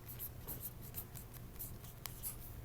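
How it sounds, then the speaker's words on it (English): Faint, close scratching of a pen writing by hand in a classroom lesson: a quiet run of short, evenly spaced strokes over low background hiss, with no voices. "I'm going to write"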